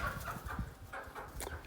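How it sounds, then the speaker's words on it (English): Backyard chickens clucking close by, with short scratchy calls and bursts of bird noise over a steady outdoor background, a few quick overlapping clucks with no talking. "Watch the chickens, feed the chickens."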